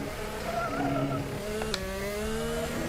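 Race car engine revving hard and climbing in pitch through a gear change into third, accelerating out of a corner, loud and close with no voices.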